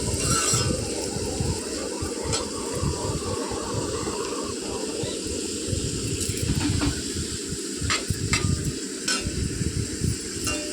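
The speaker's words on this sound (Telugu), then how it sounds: "ఆనియన్స్ క్యారెట్ వెజిటేబుల్స్ అన్ని వేసేసుకుని బాగా కలుపుకోవాలి" Chopped onions, carrots and mixed vegetables fry in a pan for homemade noodles while being stirred. A dense, close sizzle scrapes and rustles throughout, with occasional light clinks of a spoon against the pan.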